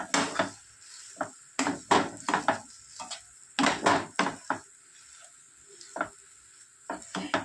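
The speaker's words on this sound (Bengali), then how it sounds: "এবার আলুটা খুব ভালো করে মশলার সঙ্গে মিশিয়ে নেব" Grated boiled potato being mixed with spices in a frying pan, heard as a series of close, irregular scraping and tapping stirring strokes with short quiet gaps and a faint sizzle underneath.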